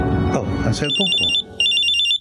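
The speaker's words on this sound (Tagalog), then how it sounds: "Oh, ang cellphone ko." A cellphone rings with a repeating electronic trill in two bursts, coming in right after a panicked voice speaks over it.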